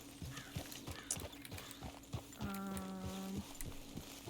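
A horse in Red Dead Redemption 2 whinnies for about a second, its tone clear and loud over a steady, rhythmic clip-clop of hooves that continues throughout.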